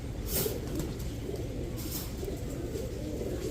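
A male Afsan grizzle racer pigeon gives soft, low, rolling coos at close range over a murmuring background.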